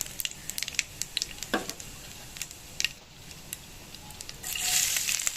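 Nigella seeds sizzle in a pan of hot mustard oil, a soft steady crackle with scattered sharp pops and a louder hiss swelling near the end, close by with no talking.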